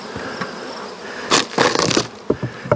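Honeybees buzzing around an open beehive during hive work with an escape board, a steady insect drone under sharp rustling bursts and brief knocks near the microphone.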